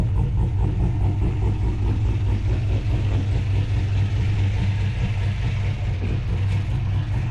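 A 415+ hp LS1 V8 ute with a cam package idles steadily through twin exhaust outlets, a deep, loud, even burble with a lumpy low-end pulse that holds constant throughout, with no voices.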